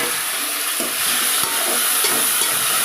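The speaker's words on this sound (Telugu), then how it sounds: "ఇప్పుడు దీంట్లో టమాటా యాడ్ చేద్దామా." Chopped tomatoes go into hot oil with frying garlic tempering in a pan for tomato rasam, giving a loud, close, crackling sizzle with stirring scrapes throughout and no talk.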